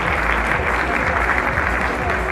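An audience applauds steadily at the Spiel des Jahres board game award ceremony, a dense, even wash of clapping from a large indoor crowd throughout.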